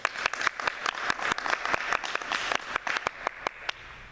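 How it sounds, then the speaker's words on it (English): An audience at a school awards ceremony claps together, a dense burst of applause that thins toward the end into a few scattered, separate claps. "How about applause for our Scholar Athletes of the Year?"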